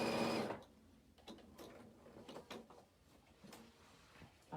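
A sewing machine stitching a seam on a denim skirt, a faint close whirring and clicking with short bursts of stitching and small mechanical taps after a brief louder opening.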